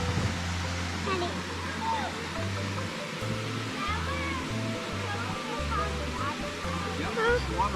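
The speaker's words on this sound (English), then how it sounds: "Waterfall." Rushing water from a river waterfall fills the scene with a steady, loud broadband roar, while a child and an adult talk over it and low thumps of wind buffeting the microphone come and go.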